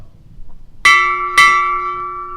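Two clear, ringing strikes of a ship's bell about half a second apart, each with a long sustained metallic tone that hangs in the air, no talking.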